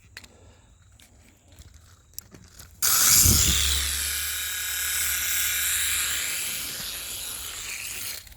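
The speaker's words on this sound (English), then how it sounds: "Want to try to make this work, this little helicopter emoji thing?" A small toy helicopter emoji gadget spins up abruptly after a few quiet seconds of faint clicks, then whirs loudly and steadily up close with a buzzing motor hum.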